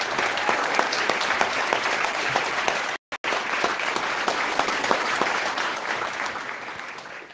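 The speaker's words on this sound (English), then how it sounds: "Can we have a little round of applause maybe for Freedom?" Audience applause for a guest at a CBC event fills the room as steady, dense clapping from many hands, loud and sustained, briefly cut out for a moment midway before easing off slightly at the end.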